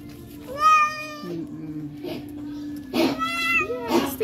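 A cat, a native Filipino domestic cat, meows plaintively several times nearby during a bath, with a longer cry near the start and a cluster of insistent meows toward the end.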